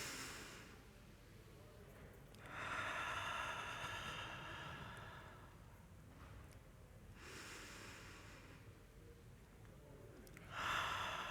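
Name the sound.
long inhales and slow exhales, breathing exercise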